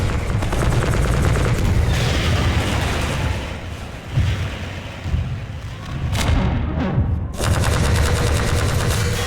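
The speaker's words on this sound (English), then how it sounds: "Does this guy just have infinite rockets in this rocket launcher?" Half-Life 2 combat with rocket launcher fire: loud, continuous rapid bursts and booming blasts crowd the whole stretch, easing briefly midway before heavy gunfire and explosions surge back, with no speech.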